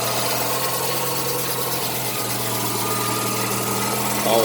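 A Mazda RX-7 FC with a naturally aspirated street-ported rotary engine idles close by, a steady, even low hum with a constant vibrating drone throughout.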